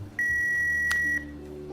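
An answering machine gives a single steady electronic beep lasting about a second, clean and prominent over a quiet background hum.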